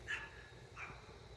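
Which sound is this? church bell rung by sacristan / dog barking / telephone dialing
dog barking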